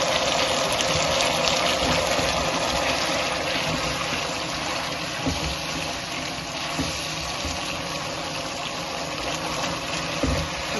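Water is poured into a pan to make a light gravy, giving a steady, close gushing and splashing rush that runs continuously with small bumps and clatters.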